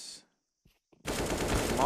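Bursts of AK rifle fire in a CS:GO match: a short blast at the start, near silence, then a dense, sustained rattle of automatic shots filling the last second of the clip.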